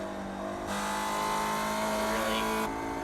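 A Spec Racer Ford race car in iRacing revs steadily at Tsukuba Circuit, its engine droning loud and continuous, the throttle rising and falling, with a faint tire squeal at one point.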